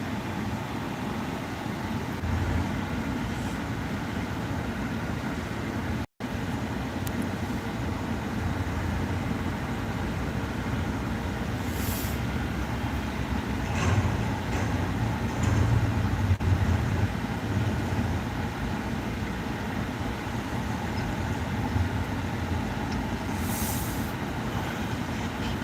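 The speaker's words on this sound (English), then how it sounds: "guys hear that fucking garbage truck getting rid of the genetic waste?" A garbage truck driving by on the street: a low, continuous engine rumble that swells slightly midway, heard at moderate distance with no talking.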